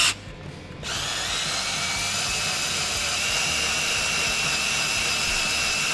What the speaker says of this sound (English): When you get done drilling this hole